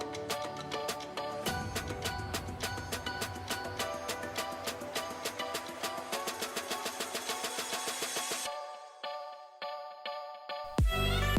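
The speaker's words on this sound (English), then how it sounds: "Using my bablyliss clippers to make our next guideline, we're going to have the lever fully open with the 1/16 guard or the half guard attached." BaByliss hair clippers with a 1/16 guard, lever fully open, fading hair: a close, steady motor buzz with rhythmic pulsing strokes, then the tone shifts and thins near the end.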